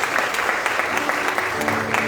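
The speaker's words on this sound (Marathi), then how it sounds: "पण जोरात टाळ्या वाजून" A church congregation applauds loudly and steadily during a worship service, dense continuous clapping filling the room for the whole moment, with a voice faintly audible underneath.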